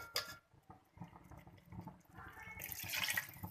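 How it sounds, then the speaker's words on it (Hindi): Water poured from a vessel into a pan of keema matar (minced meat and pea curry) with tomato, a soft splashing trickle that builds and swells toward the end, fairly close and alone without talk. "अब इसके अंदर इतना पानी ऐड करेंगे जिसमें ये कीमा अच्छी तरह से गल जाए।"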